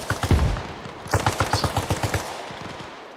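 Small arms gunfire in the video game Arma Reforger during a forest firefight: a rapid string of loud, sharp shots in a fast automatic rhythm, with an early cluster followed by a steady burst that trails off, no voices.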